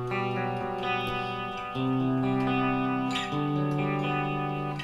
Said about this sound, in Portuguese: Esse é o som do captador da ponte aqui como single coil